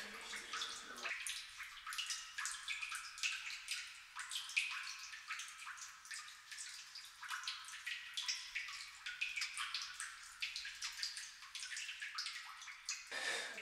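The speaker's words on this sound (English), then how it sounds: "Turn on the water and check for leaks." Water runs steadily from a tap just after a washer was replaced on the valve stem, a continuous bright hissing splash that starts abruptly, carries on evenly and stops near the end, with no talking.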